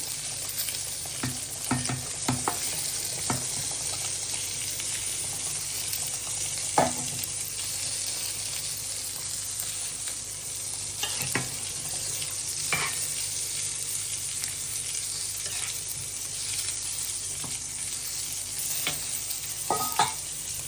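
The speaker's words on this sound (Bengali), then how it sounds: "ঝোলটা ফুটে উঠছে এখন এই যে আমি আলু মাছ আর পটলটা দিয়ে দিলাম" Fish curry with potato and pointed gourd cooks in a pan, giving a steady, fairly quiet sizzle and bubble throughout. Occasional short knocks and scrapes of stirring break through, and no one speaks.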